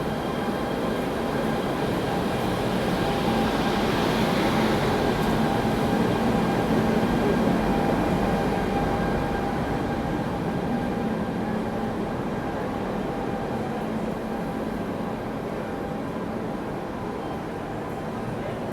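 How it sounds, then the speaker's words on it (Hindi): The Sealdah Duronto Express, hauled by a WAP-7 electric locomotive, rolls past at a station in a loud, continuous rumble with steady hum and faint tonal whine. "यहाँ आ गए अपनी Duronto express Sealdah web 7 locomotive के साथ।"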